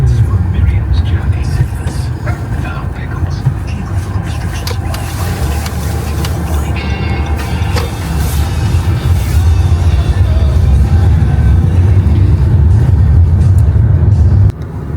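Steady road traffic rumbles close by throughout, a continuous low drone of cars passing with brief swells, and people talk over it.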